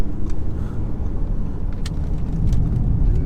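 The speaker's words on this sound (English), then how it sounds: "it's time to release my inner Albanian or Romanian and drive this Audi RS6 like it's supposed to be driven." A 2020 Audi RS6 with traction control off accelerating hard, a loud, deep engine roar rising steadily in cabin perspective, with faint clicks and rattles on top.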